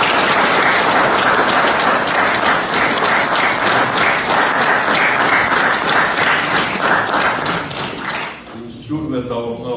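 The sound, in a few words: long sustained applause at award ceremony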